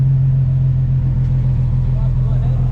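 A supercharged Nissan 370Z Nismo with an automatic gearbox, tuned to about 670 wheel horsepower, drones with a loud, steady low engine note, heard from inside the car under hard acceleration in third gear.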